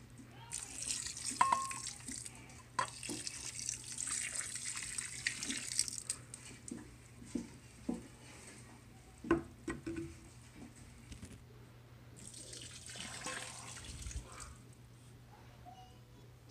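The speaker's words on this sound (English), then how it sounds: "So now I'm going to add some water." Water is poured onto the soil of a DIY bioactive reptile terrarium, a soft, steady trickle and patter that pauses midway and then resumes, faint and close with no talking.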